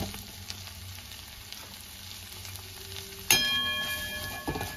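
Flour stirred into garlic butter in a pan for a chicken cheese bread malai roll: a steady low sizzle, then a sharp utensil clink on the pan followed by louder sizzling and stirring scrapes near the end.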